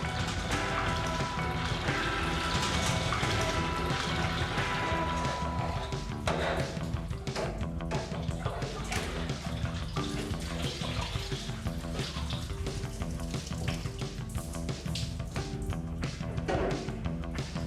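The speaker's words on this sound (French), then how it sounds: "on va serrer le grain et évacuer le petit lait" Whey drains steadily from cheese curds during Ossau-Iraty cheese making in a mountain dairy, a continuous loud rush and splash of liquid with no talking.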